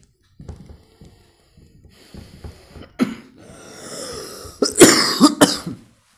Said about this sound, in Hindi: मेरे को इस टाइम पे हर रोज़ खांसी उठती है